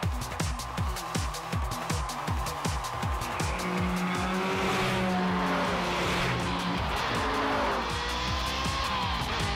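Cartoon race cars roar and speed along a stadium track with repeated engine revs and tire squeals, loud and busy throughout, with music or effects layered over the racing noise.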